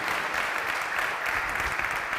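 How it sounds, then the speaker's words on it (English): An audience at a hackathon event applauds the organising team with a continuous, even wash of many hands clapping at moderate loudness, without pauses. "Please, a big clap, a huge clap for them"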